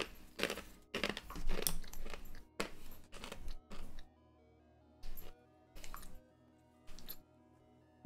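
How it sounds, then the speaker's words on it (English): A person chews crunchy snacks close to the microphone in irregular bursts of crisp crunching and crinkling, separated by quiet pauses. "I think he hears me chewing."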